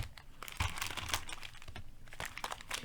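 Thick Detective Conan trading card packs shuffled by hand, a steady run of close crinkling, rustling and light snapping of foil wrappers for about three seconds, with no talking.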